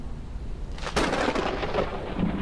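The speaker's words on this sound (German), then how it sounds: "Das Gewitter ballert halt auch immer rein des Todes" Thunder from a storm in the video game Forever Skies: a sudden loud crack strikes about a second in, then rolls into a long, heavy rumble with a rain-like hiss throughout.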